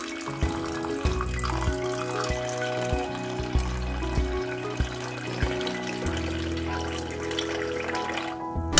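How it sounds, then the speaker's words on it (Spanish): Water pours and trickles into a container to soak pine nuts for a custard and fruit coca, a steady running stream with small splashes over a low hum, no talking. "vamos a poner los piñones en remojo"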